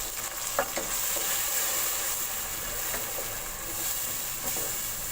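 A wet paste of tomato, green chili and garlic frying and being stirred in a pan, a steady close sizzle with soft scraping, no voices.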